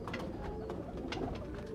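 Pigeons, including Rampuri and Teddy breeds, coo softly in low, repeated murmurs over a dull background hum, close by.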